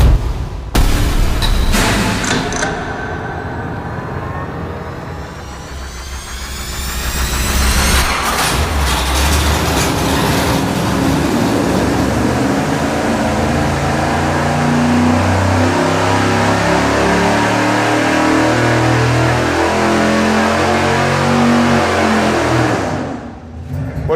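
A 598 cubic inch engine on a dyno roars up through a loud rising rev sweep, then holds a heavy sustained pull for many seconds before cutting off abruptly at the end, close and powerful with no talk.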